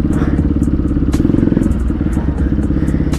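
A motorcycle engine with a gearbox fault runs stuck in one gear, giving a loud, steady, close throbbing drone with repeated clattering and crackling from the exhaust throughout.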